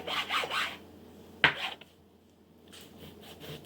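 A knife slices through a thick slab of cooked roast beef, cutting it into strips, giving soft rubbing, rasping strokes up close followed by a sharp click of the blade against the board, then quiet.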